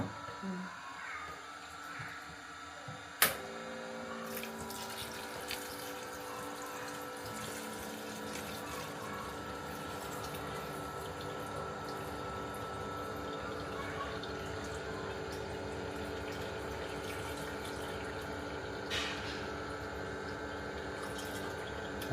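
Water pouring steadily into a goldfish tank during cleaning, a continuous running splash with a sharp knock near the start and faint talk in the background.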